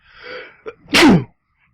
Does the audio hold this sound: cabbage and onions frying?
no